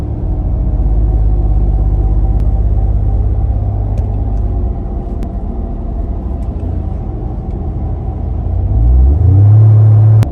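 A Ford Raptor truck cruising on a long highway road trip gives a steady, loud low rumble of engine and road noise inside the cab, with a deeper surge near the end and no talk.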